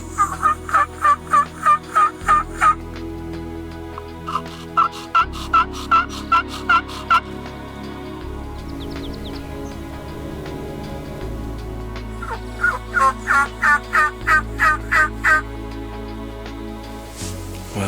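Repeated bursts of rapid gobbling from a wild turkey tom, loud and nearby, in several series separated by pauses.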